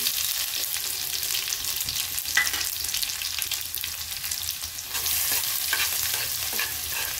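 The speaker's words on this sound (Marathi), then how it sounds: "तेल गरम झालेले, आता आपण आता मोहरी टाकून घेऊ, थोडे जिरे टाकू, लसूण असं जाड कुटलाय तो टाकून घेऊ" Mustard seeds, cumin and coarsely crushed garlic sizzle in hot oil for baingan bharta, a steady close crackling hiss with a few sharp pops that swells louder partway through.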